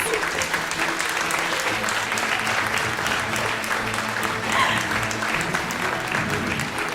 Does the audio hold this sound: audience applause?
yes